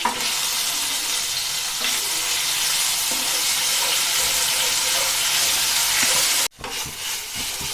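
Ginger garlic paste stirred into paneer tikka masala in a hot pan, giving a loud, steady sizzle and frying hiss close up that cuts off abruptly near the end.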